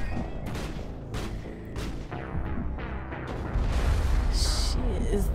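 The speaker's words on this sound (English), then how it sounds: "She is throwing bombs" Explosions from bombs thrown during a fight on the Novaria mission in Mass Effect 1 go off as a string of sharp bursts and booms amid game combat noise, moderately loud and close.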